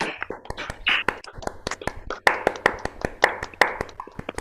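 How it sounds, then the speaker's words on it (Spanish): A small group claps for a speaker at the close of an online psychoanalysis session, with sparse, uneven individual hand claps and taps rather than a dense ovation. "aplaudimos a Yago entonces"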